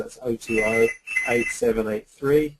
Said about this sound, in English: Excuse my phone ringing there.